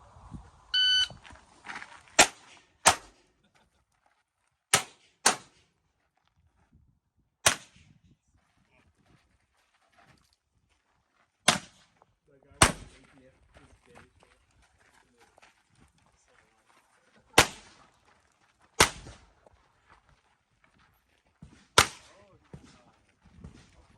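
Single sharp gunshots from a 9mm Mauser C96 Broomhandle pistol at a shooting competition, about a dozen loud reports spaced irregularly a few seconds apart, with faint background voices between.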